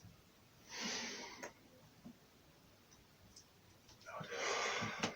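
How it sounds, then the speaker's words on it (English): Slow breaths drawn in during a guided breathing exercise, two broad hissing inhalations, one near the start and a longer one near the end, close and soft with faint ticks between. "And just the closing exercise, we're breathing in."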